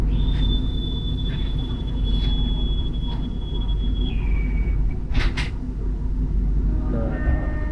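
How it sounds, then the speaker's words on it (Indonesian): A train departs Tawang station amid a low rumble of idling machinery, with a long steady high whistle-like tone, brief sharp metallic clanks and a later rising tone near the end; no talk. "keretanya akan segera diberangkatkan guys dari stasiun Tawang"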